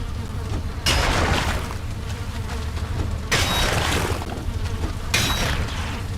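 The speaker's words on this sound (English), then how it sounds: "And I hear buzzing." Insects buzz in the Valheim video game: a steady drone with a few louder swells, heard alone with no talking.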